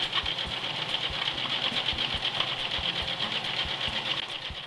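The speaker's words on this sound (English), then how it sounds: "then we'll sew this stitching line next" A sewing machine runs steadily, stitching the hem of a curtain with contrasting thread, a dense continuous mechanical whir with rapid regular thumps of the needle throughout, close and alone with no talk.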